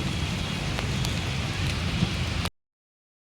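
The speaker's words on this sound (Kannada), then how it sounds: "ಇಲ್ಲಿ ಮಳೆ ಹೊಂಟದ" Steady heavy rain falls outside an office building, a dense hiss and patter that continues evenly and then cuts off abruptly into silence.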